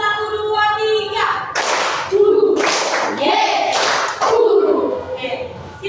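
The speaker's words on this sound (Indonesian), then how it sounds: "Tepuk 1, 2, 3." A class of children claps together in counted rounds during a social studies lesson, giving a few sharp bursts of group clapping with background chatter between them.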